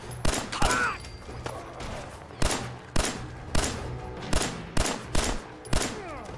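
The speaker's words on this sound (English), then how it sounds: "Where are all these bullets going?" Gunfire in Fallout 4 crackles in repeated sharp shots, roughly a dozen loud reports spaced unevenly across the stretch, with a faint voice briefly in between.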